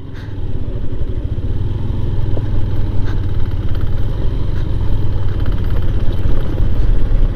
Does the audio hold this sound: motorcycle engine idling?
yes